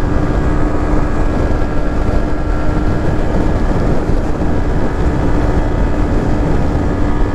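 A 2020 Yamaha MT 125 single-cylinder motorcycle engine strains uphill with the throttle held wide open, a loud, steady, unbroken drone that continues throughout with no talking.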